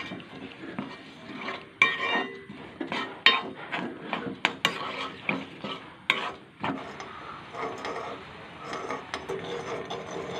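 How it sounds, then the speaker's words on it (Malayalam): Jaggery is stirred with a little water in a pan to melt it, giving a steady run of scraping and clinking spoon-on-metal strokes in an irregular rhythm, close and fairly loud, with no voices. "ശർക്കരയിൽ കുറച്ച് വെള്ളം ഒഴിച്ച് നമുക്ക് ഉരുക്കിയെടുക്കാം"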